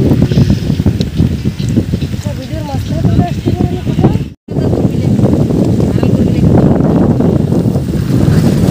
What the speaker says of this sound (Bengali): ওরে বাতাস আর বাতাস, কত বাতাস।